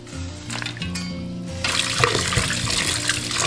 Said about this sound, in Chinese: 关火捞起来清洗干净。